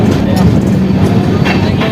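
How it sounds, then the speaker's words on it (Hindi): The Anand Vihar–Jaynagar Garib Rath Express with new LHB coaches pulls out of Laheriasarai station after a two-minute halt, heard from inside as a loud, steady rumble with clattering rails beneath. "2 मिनट हॉल्ट के बाद अपनी ट्रेन का डिपार्चर हो चुका अपनी लहरिया सराय रेलवे स्टेशन"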